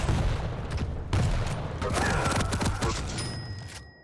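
Gunfire from a Warband 1.5 duel between AirWalker and Retc0n: a dense burst of sharp shots and booming impacts over a steady game background, with a few quick cracks clustered near the middle and a thin tone lingering at the end.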